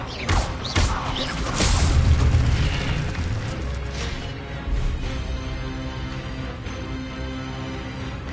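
In Hogwarts Legacy, the Expelliarmus spell goes off with a booming burst and crackling, mechanical-sounding rumbles. Lighter magical sweeps follow over several seconds as the sound fades.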